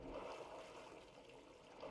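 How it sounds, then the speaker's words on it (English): Water flooding a ship's bridge in the Stormworks game, a steady soft rushing and trickling wash that stays fairly faint and even throughout, with no voices. "Oh, the bridge is taking on water."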